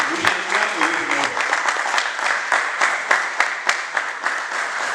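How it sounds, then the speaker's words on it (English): An audience at a university debate final claps steadily, a dense, even patter of many hands close by, with a voice speaking over the start. "Let's keep clapping."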